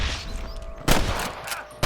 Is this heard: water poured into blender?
no